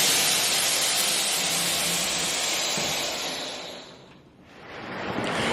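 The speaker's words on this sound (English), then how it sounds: "it is pouring down rain right now" Heavy pouring rain roars in a loud, broad hiss that swells steadily, dips briefly near the end and then rises again, with no voices.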